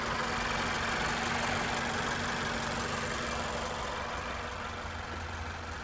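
A Mazda 6 2.5 Turbo Skyactiv engine idles steadily with a smooth, constant hum and faint whine, close and continuous with no voices.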